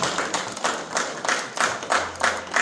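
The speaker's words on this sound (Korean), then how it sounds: "박수 치면서 마무리하겠습니다" A group claps hands together in a rhythmic, fairly even series of close, crisp claps at the end of a gathering, with no talking over it.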